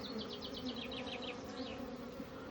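Honeybees buzzing around an opened hive about two weeks after the queen's mating flight, a faint steady drone with individual bees whining past close by.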